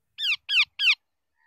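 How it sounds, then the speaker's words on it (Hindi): Crows gathered in the morning near a ring-necked parrot give three sharp, harsh caws in quick even succession, loud and close against otherwise silent surroundings. "आप यहाँ पे कौवे आ चुके हैं इसको खाने के लिए। 6-7 कौवे हैं"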